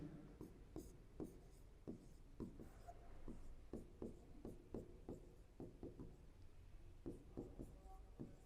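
Pen or chalk strokes tap and scratch in a quick, irregular rhythm while a definition is written out during a biology lesson, close by and quiet with no talk.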